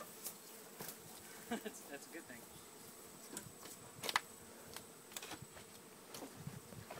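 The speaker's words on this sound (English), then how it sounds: "Bees fascinate me." A swarm of honey bees being captured on a prairie farm hums in a faint, continuous buzz, with individual bees zipping past the microphone now and then while people talk quietly nearby.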